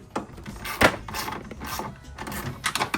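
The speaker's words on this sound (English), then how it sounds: "Tightening up the last bolts here" A ratchet wrench tightens bolts on a golf cart during a 76V AC Navitas conversion, giving short bursts of clicking at close range with brief pauses between strokes.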